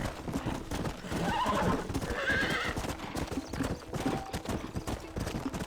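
Horses gallop in a steady clip-clop rhythm with sharp whinnies and neighs rising over the hoofbeats, loud and close in a Red Dead Redemption chase scene, with faint shouting mixed into the din.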